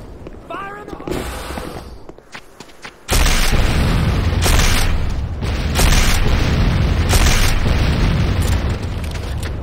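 A C4 charge detonates at a Tiberium Refinery in the game Renegade: quieter game sounds with a brief voice, then a sudden loud boom that settles into a roaring, rumbling blast lasting several seconds.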